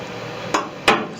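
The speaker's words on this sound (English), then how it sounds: "Some of this ham. Chopping it." Two sharp, separate knife chops land on a cutting board as ham is cut, each a crisp close thud, against quiet background noise.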